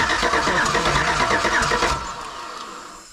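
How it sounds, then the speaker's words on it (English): A GM Silverado/Sierra pickup engine with a DOD/AFM lifter failure cranks over loudly and steadily for about two seconds, then the sound drops to a quieter rumble. "I'll have someone crank the engine over here, and you can kind of see what's going on."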